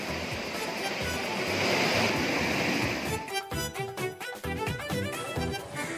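River water roars steadily at Thirparappu waterfall on the swollen Thamirabarani river in flood, a dense continuous rush that gives way midway to a faint music-like texture over the lingering water noise.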